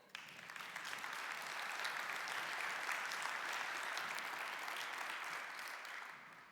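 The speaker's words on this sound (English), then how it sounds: "they deserve a round of applause for that" A round of applause from an audience at a daily introduction event in Berlin, building quickly into a dense, even roar of clapping that holds steady and then fades out at the close.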